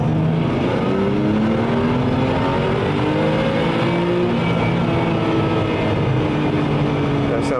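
A Porsche 996 with a Hartech engine and its exhaust valves closed is heard from inside the cabin while driving, a continuous loud engine drone rising and falling in pitch through gear changes, with some talk underneath.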